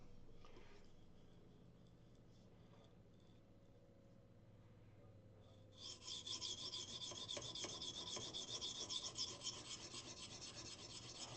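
A blade is sharpened on a stone to raise a burr. Quiet rasping strokes start faint, then turn louder and denser halfway through as steady scraping rubs continue close by.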